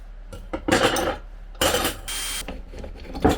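An angle grinder is taken apart with a wrench, giving a few sharp metallic clanks and scrapes close by, with a brief grating rattle in the middle.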